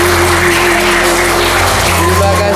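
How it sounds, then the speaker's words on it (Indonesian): Junior high school students in Klaten, Java clap together in a dense, continuous burst of applause that fills the room loudly throughout. "Tepuk tangannya."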